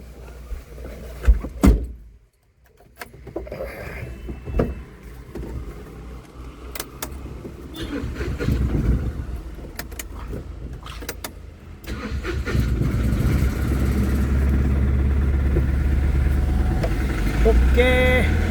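A loaded car on a second trip starts up after a door thump and a few bumps, then its engine settles into a steady, close drone as it drives away.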